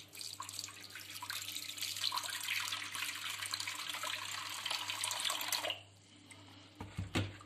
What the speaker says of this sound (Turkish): Bundan sonra suyumu kontrollü bir şekilde dökmeye başlıyorum.